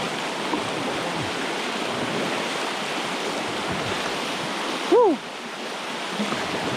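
Fast-moving river water rushes near rapids on a stand-up paddleboarding outing, a steady broad roar close to the microphone with a brief short vocal sound near the end.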